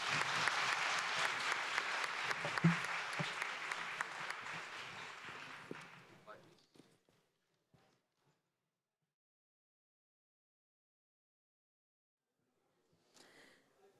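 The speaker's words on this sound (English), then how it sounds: "And let's not do that without applauding the panel right now." Audience applause for a panel at a security policy conference, sustained clapping from a sizeable crowd that fades out after about six seconds, followed by near silence and a faint murmur.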